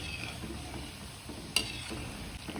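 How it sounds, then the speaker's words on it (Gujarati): Kachori deep-fry in hot oil, a soft, even bubbling sizzle that stays constant throughout, broken once by a short sharp clink, with no speech. "મારે આ કચોરી તળતા લગભગ 5 થી 7 મિનિટ જેટલો ટાઈમ ગયો છે."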